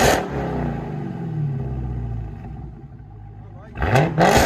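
A car engine revving hard through a Flowmaster muffler, a deep throaty rumble that rises and falls, then a sharp double rev at the end, loud and close with no one talking.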